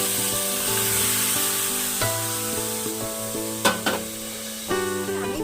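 Marinated chicken sizzles in a hot aluminium wok with no oil, a steady close hiss with a background tonal hum and a few sharp clinks and scrapes near the end.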